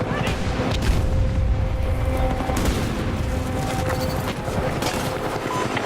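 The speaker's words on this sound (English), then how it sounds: "Grenade! Get down!" A grenade goes off amid heavy combat in a war video game with Russian troops holding a defended sector, a loud booming blast inside a continuous dense roar of gunfire and battle noise.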